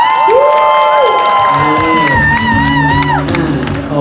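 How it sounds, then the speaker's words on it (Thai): A loud crowd cheers, whoops and applauds at a movie premiere, with shouting voices rising and falling over steady clapping close by. "ขอเสียงปรบมือด้วยครับ"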